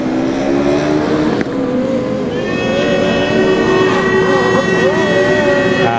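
A Formula Student race car at the 2009 Formula Student Germany endurance event, its engine tone rising and shifting as it passes through a slalom, heard continuously and fairly loud beneath a commentator's voice.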